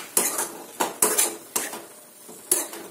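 Bell pepper is sautéed in a pan for besan shimla mirch, a handful of distinct metal spatula scrapes and clanks against the pan with a faint sizzle underneath.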